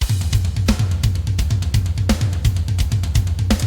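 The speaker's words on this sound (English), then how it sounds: "This is how the drum sound is default in the plugin." A plugin's default drum kit sound plays a fast, steady groove with punchy kicks, snare hits and busy cymbals, loud and up close with no voices.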